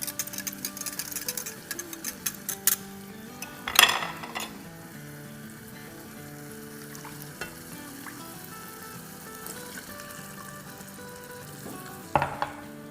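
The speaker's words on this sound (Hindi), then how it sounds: "और इसको अच्छे से मिला के ले लेंगे।" Chicken in a sizzling sauce is stirred in a pan: a constant frying hiss with clattering scrapes and knocks of a utensil against the pan, strongest at the start and in two sharp bursts later.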